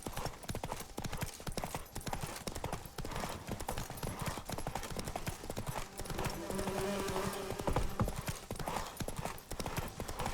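Galloping hooves of Roach, a horse in The Witcher 3 video game, clatter in a steady rapid rhythm throughout, mixed with loud game music and ambience, with a brief snort or whinny near the middle.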